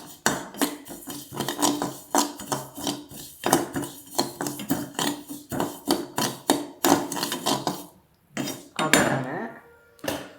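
Ajwain (carom) seeds being stirred and tossed in a hot pan, giving a steady run of close metallic scrapes and clinks from the utensil against the pan, a brief pause, then more stirring.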